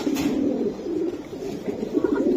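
Pigeons coo steadily in a low, murmuring chorus at a busy pigeon market where silver Giribaz birds are sold, with a continuous, fairly close throng of birds and no clear voices.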